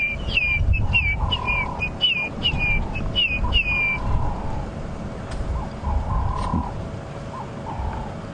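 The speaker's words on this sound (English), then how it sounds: "That whistling sound is called a grey hornbill." A grey hornbill gives repeated clear whistling calls during a sunrise safari drive in the African bush, with a rapid run of piping notes followed by softer, lower whistles, over a rumbling vehicle and wind in the background.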